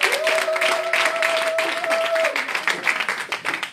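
A church congregation applauding, a steady wash of hand clapping from a crowd with a sustained sung or voiced tone over the first part and occasional voices.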